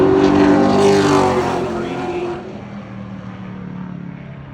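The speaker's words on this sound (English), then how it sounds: "up to speed down the back straightaway, down into turns 3 and 4, right down to the bottom of the racetrack" A Pro Late Model race car on a qualifying lap at Crisp Motorsports Park roars loudly past with a rising then fading engine drone, settling into a steadier, more distant hum as it heads down the back straightaway.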